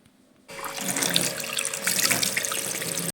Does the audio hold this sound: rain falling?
no